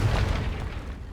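A Confringo spell explodes in Hogwarts Legacy: one heavy, booming blast with a deep, rumbling low end that fades away over about a second, heard alone and without other game noise.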